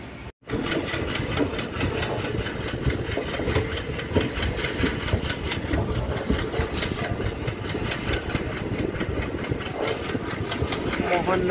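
A passenger train stands at a railway station during a brief one-minute stop on the Suratgarh–Sri Ganganagar line, with a steady, continuous engine rumble and mechanical hum throughout and some background activity.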